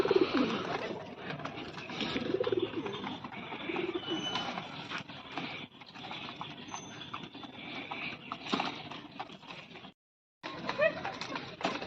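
Pigeons coo steadily in a busy loft, a dense layered murmur of calls running almost continuously with a brief pause near the end, with no voices heard.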